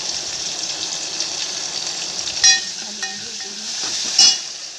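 Chili, tomato and coriander sizzle in a pan for dal fry, a steady bright hiss running throughout with a couple of small louder spits.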